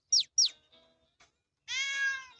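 A cartoon cat in the Toca Boca video game lets out a drawn-out, tonal meow, preceded by two quick high chirps and a few faint clicks; close and clear, no voices.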